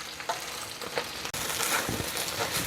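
Spinach cooks down in olive oil in a pan, giving a soft, steady sizzle with a few louder stirring scrapes. One sharp knock comes midway, and no one speaks.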